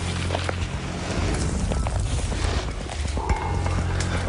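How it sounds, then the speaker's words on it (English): Horses move along a backcountry trail, hooves clopping irregularly over a steady, rumbling outdoor background, with no voices. "that horse's sound is like Satan."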